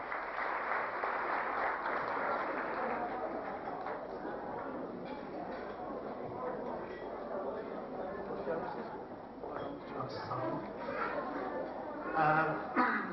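A restaurant audience at a Novruz holiday celebration applauding continuously, with a dense patter of clapping and crowd chatter mixed in and a voice talking over it.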